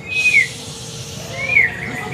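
A young white-rumped shama sings two bright, whistled phrases about a second apart, close and clear over steady background hiss, with no talk.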